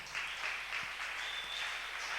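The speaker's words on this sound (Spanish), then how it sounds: "Dele un aplauso al Señor, hermano." A church congregation claps in a steady, dense round of applause that lasts about two seconds. It is fairly faint and carries a little room echo, with no voices over it.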